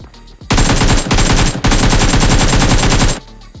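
Rapid automatic gunfire in BGMI (PUBG Mobile), a loud close burst of shots with a brief gap, then a longer sustained stream that cuts off.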